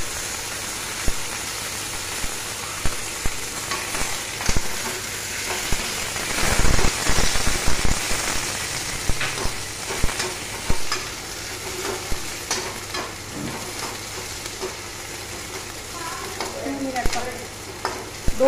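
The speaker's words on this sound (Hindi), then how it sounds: "ये देखिए हमारा प्याज फ्राई हो रहा है" Long-sliced onions fry in a pan after cumin, giving a continuous crackling sizzle with frequent spatula scrapes and stirring knocks, briefly louder midway, heard close up with no talking.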